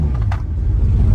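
A Lamborghini engine idles with a deep, close rumble as the car creeps slowly, a brief low steady drone.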